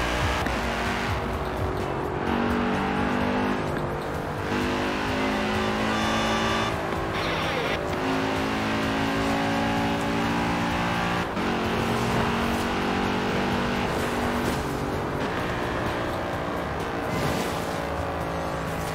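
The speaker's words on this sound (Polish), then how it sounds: "zdecydowanie Audi R8. Fajnie brzmi, to jest konkret." An Audi R8 engine in the racing game Forza Horizon 4 revs and shifts continuously, rising and falling through gears, loud and close, with occasional tire squeal and no talk.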